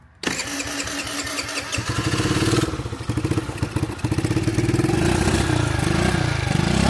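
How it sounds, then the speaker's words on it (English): A small two-stroke moped engine kicks over and catches, then runs with a rough, rapid putter that revs up and settles into a steady idle. "Mike and Payton came home with a moped"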